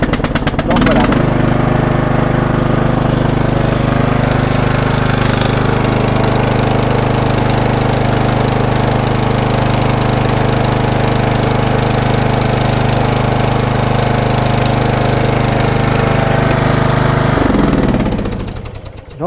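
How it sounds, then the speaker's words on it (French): A Craftsman LT1000 ride-on lawn mower engine runs at a steady idle with a loud, chugging mechanical rumble. It starts up, holds for about sixteen seconds, then cuts off and winds down. "c'était le bruit du moteur de cette tondeuse autoportée Craftsman LT1000"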